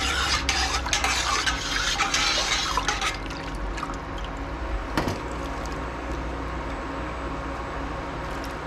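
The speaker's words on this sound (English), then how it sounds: "I'm going to go ahead and stir this" Yellow dye is being stirred through yarn in a dye kettle, a loud sloshing, liquid churn with a steady bubbling hiss that eases slightly after the first few seconds, heard alone with no voices.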